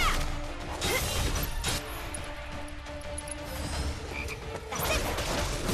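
A frog croaks in the Final Fantasy VII Remake sewer level, its low calls repeating through a busy layer of game music and effects, fairly loud and close.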